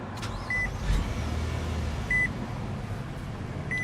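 A Nissan Pathfinder 3.5 liter V6 engine idles with a low, steady rumble, fairly quiet, while short electronic chimes beep a few times in the cabin.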